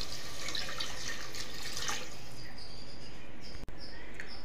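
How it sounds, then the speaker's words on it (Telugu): Water pouring into a pot of frying chicken with turmeric for Hyderabadi-style haleem, a steady broadband rush that stops abruptly near the end, with no talking. "1/2 లీటర్ వాటర్ యాడ్ చేసుకోవాలి।"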